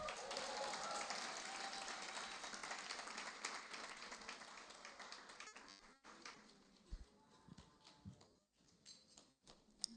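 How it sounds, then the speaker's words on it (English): Applause for an award nominee at an annual gala and graduation in a hotel, fairly faint clapping that is dense at first, then thins into scattered claps and taps over ten seconds. "More rounds of applause as he gets his award."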